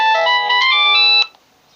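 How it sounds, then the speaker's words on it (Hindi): A phone ringtone for an incoming call plays as a loud, bright electronic melody for just over a second, then cuts off abruptly into near silence. "फोन आ गया ये नवा नंबर लग रहा है।"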